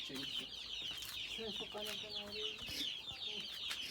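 Pigeons released from their coop coo and flutter in soft, overlapping calls, fairly faint and continuous, with a little background voice.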